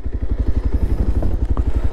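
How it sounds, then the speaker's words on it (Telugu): Exhaust note of a Bajaj Pulsar 220F motorcycle converted from a Pulsar 150, fitted with a modified exhaust, a steady close idle with a rapid, even low thumping pulse and no voices. "సో ఎగ్జాస్ట్ నోట్ కూడా చూడొచ్చు"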